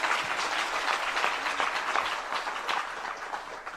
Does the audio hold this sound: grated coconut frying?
no